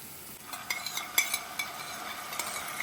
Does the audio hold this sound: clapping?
no